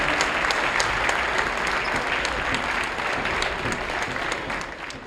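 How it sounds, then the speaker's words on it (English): A high school basketball crowd applauds the seniors at a gym's senior night, a continuous broad clapping that stays fairly even and eases slightly at the end, heard from some distance. "Let's put together a big round of applause for all these great seniors"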